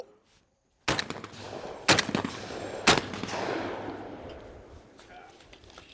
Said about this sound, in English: you know you're fully protected from the gunshot sound